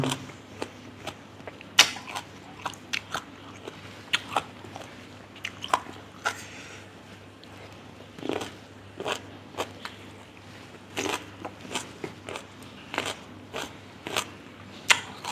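Crisp, close bites and crunchy chewing of sour green mango eaten with a fermented fish (pla ra) dip, sharp snaps repeating irregularly over about fifteen seconds with no talking.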